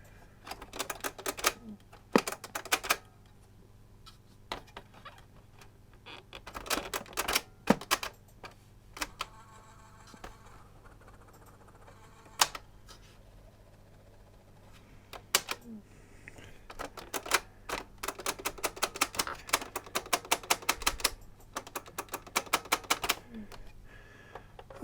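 A Sharp QT27 boombox's cassette mechanism fails to keep playing, giving bursts of sharp mechanical clicks and clacks, clustered at times and sparse at others, over a low steady hum.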